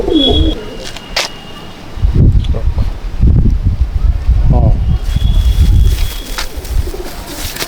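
Madrasi pigeons coo in soft, low, repeated murmurs, close by, with rustling and faint background noise around them.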